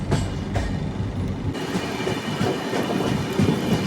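A train running along on a journey, a continuous loud rumble and rattle with broadband noise throughout, no talk.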